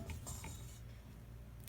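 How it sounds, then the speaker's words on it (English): A spoon stirs thick sauce in a pot, giving faint clinks and soft scraping against the pan. The sounds are quiet and close. "stirring with my spoon, you can feel that it's thick"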